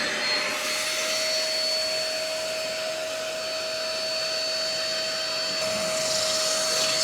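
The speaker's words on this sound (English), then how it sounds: "you need to make sure to vacuum all the water out" Constant loud whine of a vacuum cleaner drawing water out of wet car upholstery, a steady drone with a fixed tone shifting slightly near the end, no voices.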